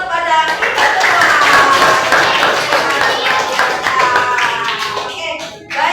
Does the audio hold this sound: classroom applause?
yes